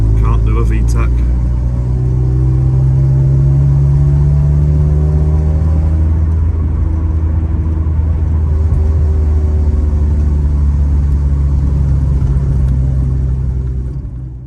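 A Honda B18 VTEC engine in a factory-built sleeper car runs with a loud, steady low rumble and a rising whir for about fourteen seconds, with a voice faintly present under it before the sound drops off at the end.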